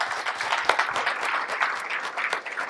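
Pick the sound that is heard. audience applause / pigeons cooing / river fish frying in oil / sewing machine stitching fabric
audience applause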